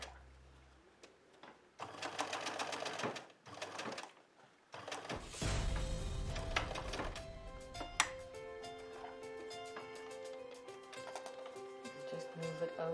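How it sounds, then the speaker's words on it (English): A sewing machine stitches a fabric face mask in short bursts of rapid mechanical clatter, a few stop-start runs followed by a longer continuous stretch, close up and fairly quiet, with faint background talk. "So we're going to sew from here to there, leave that middle piece open, and then continue sewing from there to the other dot."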